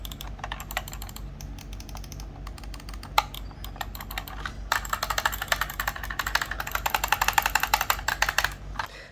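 Rapid clicking from an HP GK1100 gaming mouse's buttons, sparse at first and then a dense, fast run of crisp clicks close to the listener, with no talking.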